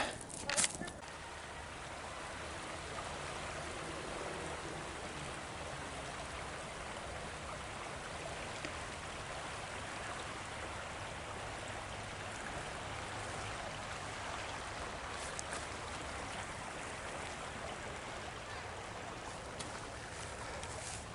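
Marys River at a park in Philomath, Oregon, rushing over a gravel bed as a steady, close broadband wash of water that holds constant throughout, with a brief knock near the start.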